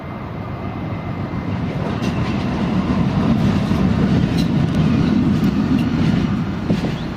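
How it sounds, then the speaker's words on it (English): A metro train heading into Newcastle rumbles along the rails near Newcastle Airport, a loud continuous roar with faint rhythmic clacking, heard fairly close and steady throughout. "Sound of another one of the metro trains just heading into Newcastle."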